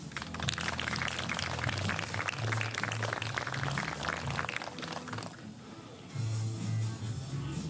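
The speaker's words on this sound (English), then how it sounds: "one more big round of applause for the lineup of this final event" Crowd applause at a women's skeet shooting final in Wroclaw, Poland, as the finalists are introduced: a steady, dense round of clapping that dips briefly and then picks up again, with a low voice murmuring beneath it.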